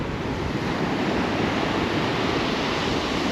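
Ocean waves breaking on an Australian shore, a loud continuous roar of surf with wind noise throughout and no pauses.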